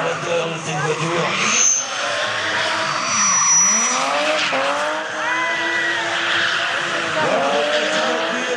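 BMW race car driven by Benjamin Blandamour, its engine rising and falling through gear changes with a tire squeal, loud and near, with commentators talking over it throughout.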